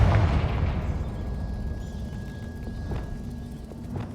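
A Confringo blasting spell goes off in Hogwarts Legacy: one booming explosion at the start, then a long rumbling decay with faint crackles trailing away.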